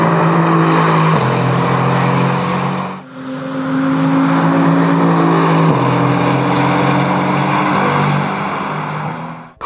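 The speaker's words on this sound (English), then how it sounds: "Cool to see a rare car ripping on the track." A race car roars past at high revs, its engine pitch shifting through gears, loud and continuous with a brief dip as it goes by.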